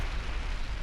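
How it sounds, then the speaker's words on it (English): A fast-moving explosion in the video game Fallout: New Vegas, a dense, continuous low roar and rumble that fills the whole short moment at steady loudness, with no speech over it. "That is just one fast-moving explosion."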